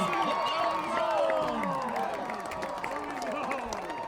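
Crowd at a varsity high school football game roaring and cheering after an interception, a sustained loud wash of voices with some clapping that fades slightly toward the end.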